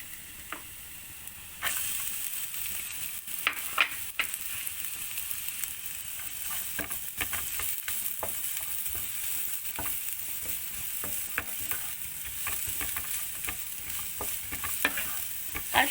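Vegetables stir-fried in a pan after aromatics are sautéed, a quiet steady sizzle that jumps louder as they go in, with frequent clicks and scrapes of a spatula against the pan.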